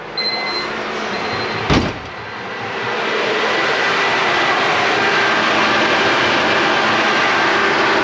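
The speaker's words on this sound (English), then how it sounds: "let me show you how the fans actually work" Climate fans in an all-wheel-drive Honda Civic blow a steady broadband whoosh that steps up in strength partway through, preceded by a sharp click, with no talking.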